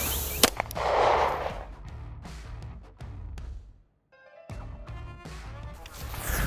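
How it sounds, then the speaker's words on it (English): Several sharp 9mm pistol reports from Fiocchi 115 grain FMJ rounds fired at a body armor plate crack out close and loud, one standout blast early followed by scattered impacts, with a brief silent gap and some faint voices around them. "we'll start with a 9mm. I'm shooting Fiocchi 115 grain FMJ"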